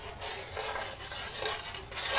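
Hibiscus flower jam being stirred in a pot, a continuous scraping and rubbing of a utensil against the pot with rhythmic strokes, close and moderately loud with no talking.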